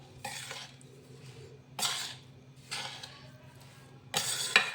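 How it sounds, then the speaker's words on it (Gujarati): A spoon mixes a ground cashew mixture in a bowl, with four separate scraping, clinking strokes spaced about a second apart over a low steady hum. "હવે એને મિક્સ કરી લેશું."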